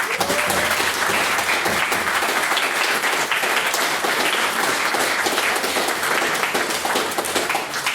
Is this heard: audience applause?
yes